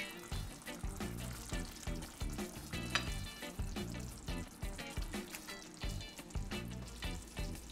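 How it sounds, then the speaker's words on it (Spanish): Tortilla pieces simmer in sauce in a pan over medium heat, a close, bubbling sizzle with rhythmic pops and gurgles, quite faint overall and with no one talking. "Justo después ponemos los trozos de tortillaca y dejamos cocinar a fuego medio durante 2 minutos."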